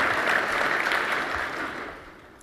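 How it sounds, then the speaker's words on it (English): Audience applause at a wildlife refuge conservation conference, a dense steady wash of many hands clapping that fades out toward the end. "give us a round of applause."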